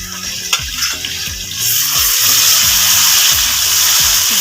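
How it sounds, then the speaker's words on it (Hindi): Ginger and garlic paste hits hot oil with onions in a pan and fries loudly, a rising steady sizzle under rhythmic background music, with a few stirring scrapes before the hiss takes over. "अदरक और लहसुन के पेस्ट को मैंने फ्राई कर लिया।"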